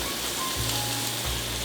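Sliced shallots sizzling in a hot pan, a dense, even hiss like rain on a surface, continuous and close, with a low hum beneath and no talking.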